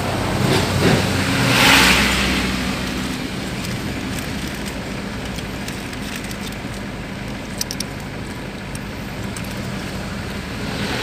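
Car engines rumble in slow road traffic, a steady low drone with a brief swell of a passing or revving vehicle early on, then constant engine noise with faint clicks.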